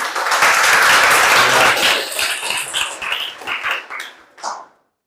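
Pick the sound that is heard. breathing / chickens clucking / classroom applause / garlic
classroom applause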